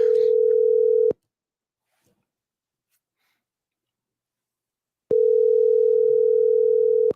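Ringback tone on a phone call to a store, two long steady electronic tones about a second each with four seconds of silence between, loud and clear with no talk.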